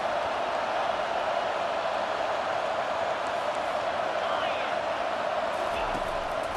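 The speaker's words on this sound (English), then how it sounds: "how nice is it to have the home crowd going absolutely bananas" A home crowd at a Washington versus Clemson college football game roars in a steady, dense wash of cheering that holds for several seconds without letting up, with a commentator's voice speaking over it.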